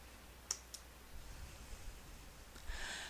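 Mouse click on an OK button in photo-editing software, a couple of sharp, faint clicks near the start against quiet room tone, with another soft click and a brief rustle toward the end.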